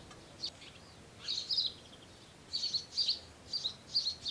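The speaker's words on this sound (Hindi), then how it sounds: "सुनो, वो पंछी हमसे कुछ कहना चाहता है।" A bird chirps in short bright bursts, a single call followed by clusters of rapid tweets repeating at a fairly close, moderate level with no talk.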